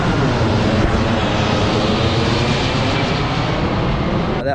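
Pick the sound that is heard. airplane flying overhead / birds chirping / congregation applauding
airplane flying overhead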